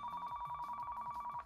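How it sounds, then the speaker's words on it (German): An in-game telephone rings in Car Mechanic Simulator 2015, a steady electronic ringing tone pulsing evenly throughout, fairly quiet and alone with no talk. "Jawohl, Telefon."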